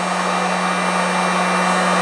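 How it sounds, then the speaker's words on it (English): A hot-air dryer at about 134 degrees blows steadily on a textile coating sample, a loud continuous whooshing roar with a constant motor whine and no variation, with no talking. "I'm just going to take the dryer there, that's 134 degrees"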